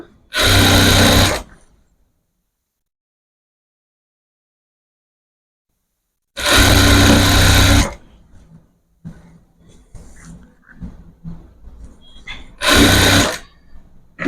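A sewing machine stitches a saree petticoat in three loud, steady runs of about one to one and a half seconds each, with silence and soft handling noises between them.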